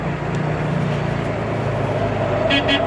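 Horn on a 1954 Willys Jeep sounding during a test drive, a short close toot near the end over the running engine and road noise.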